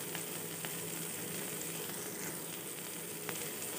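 Spices such as cumin powder sizzling in hot oil in a pan while Yippee egg noodles fry, a steady, close crackling hiss with faint stirring taps and no talk.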